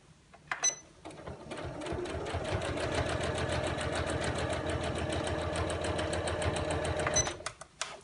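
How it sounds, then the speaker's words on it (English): A sewing machine runs steadily for about six seconds, stitching around the seams of a lined appliqué tote bag, close and even, with brief handling noises at start and end. "And then I'm going to sew all the way around."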